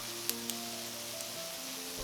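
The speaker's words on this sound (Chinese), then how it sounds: "我们开中小火煎花卷。" Twisted rolls frying in a cast iron pan over medium-low heat give a faint, steady sizzle with a few small pops, quiet and even throughout.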